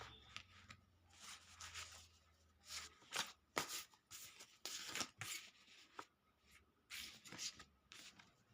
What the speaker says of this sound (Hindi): हमें फिर से करनी पड़ेगी शफलिंग